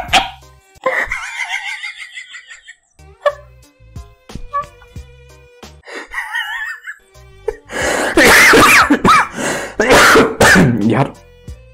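A man gives rough, bursting coughs and throat clearing in a quick cluster near the end, close and loud, after quieter vocal sounds that resemble stifled laughter.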